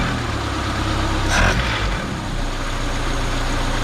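A 1979 Chevy LUV pickup engine idling steadily up close, a low, even mechanical hum with a brief blip around the middle; no one speaks.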